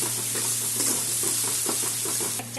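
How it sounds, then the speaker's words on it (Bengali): Chillies, ginger and ground spices are sautéed together in a pan, a continuous close sizzle broken by repeated light scrapes and knocks of a spoon stirring the mix. "এখন সব একসাথে কষাবো আর দেবো কাশ্মীরি লঙ্কার গুঁড়ো"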